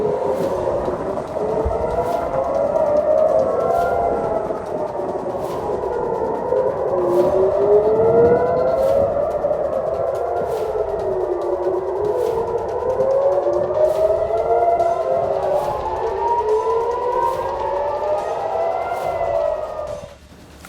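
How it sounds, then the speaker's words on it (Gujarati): A civil defense air raid siren wails loudly and without a break during a mock drill. Several overlapping tones rise and fall in slow cycles, with faint regular ticks underneath, and no one speaks. "એનો અંદાજ મેળવવા માટે તમે સાયરનનો અવાજ સાંભળો"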